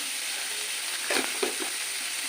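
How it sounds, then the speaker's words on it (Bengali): Onions fry in a pan with salt and turmeric, a steady, moderately loud sizzle with a brief burst of stirring scrapes and clicks midway, no voices. "পেঁয়াজটা আমি একটু লাল লাল করে ভেজে দেবো"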